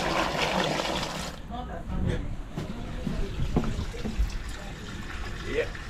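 Water gushes down a cleared sink drain gully, a steady rushing and splashing flow, mostly alone with little talk.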